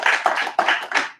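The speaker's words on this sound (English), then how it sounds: "We wanna honor you and just a round of applause for you." A school board meeting audience gives a round of applause honoring a valedictorian: a short run of close, crisp claps in uneven bursts, with no voices.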